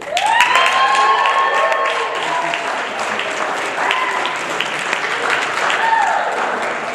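A stand-up comedy audience cheers and claps loudly, with whoops and whistles rising over the continuous applause, close and lively, and a voice talks briefly underneath.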